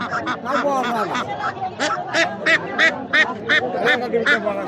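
Ducks quack loudly and close by at a rural village market, a rapid run of repeated nasal calls over a murmur of people talking in the background.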